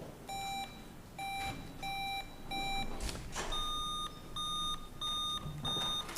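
Quiz bowl buzzers sound one after another in a buzzer check before a match: a sequence of short, clear electronic beeps in regular bursts, with a brief rustle in the middle and no talk.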